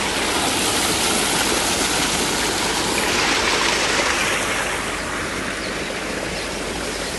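Water gushes loudly and steadily from a bore-hole pump run by a solar-powered motor on a farm, a dense continuous rush with no talk over it.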